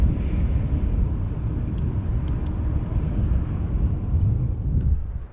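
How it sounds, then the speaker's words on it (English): A KLM Boeing 787-9 Dreamliner arriving at Amsterdam Schiphol, a loud continuous low roar of jet engines sustained throughout and easing off at the very end, no speech. "Here is another flying AMS Live logo, KLM flight 668, 7879, Dreamliner arriving from Austin, Texas."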